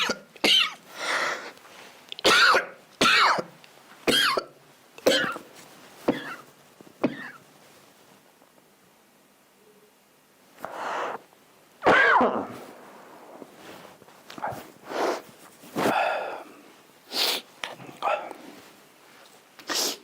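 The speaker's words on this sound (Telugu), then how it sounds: "కంటిన్యూ దగ్గు వస్తుంది" A person coughs repeatedly in short harsh bursts, clustered in bouts with brief pauses between, close and fairly loud in a quiet room.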